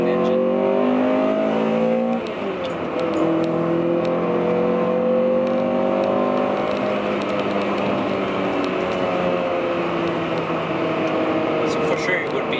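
A Honda Prelude 5th generation VTEC engine pulls hard in third gear, its loud, steady engine tone rising in pitch over about twelve seconds, with a brief dip near the two-second mark.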